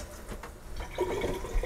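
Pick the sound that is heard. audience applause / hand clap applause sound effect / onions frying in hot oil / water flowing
water flowing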